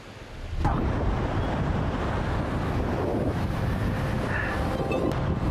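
Strong coastal wind on Biri Island, Samar, buffets the microphone in a steady, roaring rush, with a faint wash of water underneath and no one speaking.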